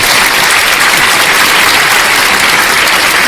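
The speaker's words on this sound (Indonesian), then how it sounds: "Mantap, tepuk tangan." Loud, dense applause from a large crowd, steady throughout with no pauses, close and enveloping.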